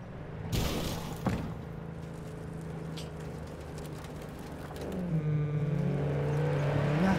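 A car driving in Cyberpunk 2077, a steady engine drone with a knock early on, then a rising whirring rev and a sustained higher engine note toward the end, moderately loud.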